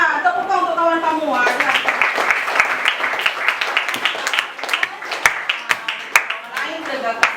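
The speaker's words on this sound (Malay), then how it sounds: "Tepuk tangan untuk kawan kamu." Schoolchildren in a primary classroom clap for a classmate, a dense, steady patter of many small hands with sharper individual claps standing out toward the end, mixed with a voice and chatter over it.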